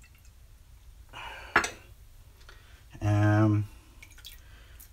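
Bloom water poured out of a shaving soap tub, heard as a brief splash and a short wet trickle with a few drips, close and fairly quiet, with someone briefly speaking.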